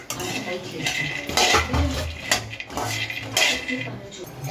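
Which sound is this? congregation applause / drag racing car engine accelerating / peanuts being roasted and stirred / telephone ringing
peanuts being roasted and stirred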